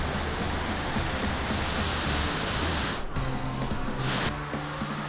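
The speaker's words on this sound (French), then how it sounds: "Regardez, il y a même une petite cascade là." A small waterfall along a forest path in South Korea gives a loud, steady rush of falling water, continuous and close, with a short dip in the middle.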